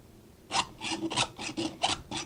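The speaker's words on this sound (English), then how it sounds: "I'm going to go to the other side and sharpen them from there." A hand file rasps across chainsaw chain teeth during sharpening, seven quick, even strokes close up, each a short, gritty scrape with brief pauses between.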